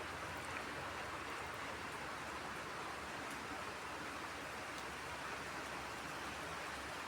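Steady rain pours down in a Telugu-speaking household setting on a day of beautiful weather, a dense, even hiss of drops holding at a constant level throughout with no voices.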